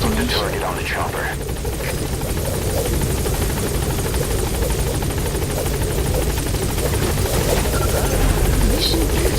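In Metal Gear Solid 5 the Pequod helicopter waits at the landing zone, its steady rotor chop and engine drone loud and unbroken, with a voice talking briefly over the noise.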